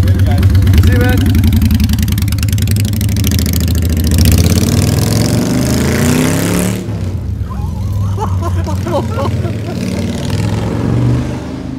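A Honda Shadow Spirit 750 motorcycle runs loud and close, its low engine rumble steady throughout with a slight shift in tone partway, and a voice or two faintly beneath it.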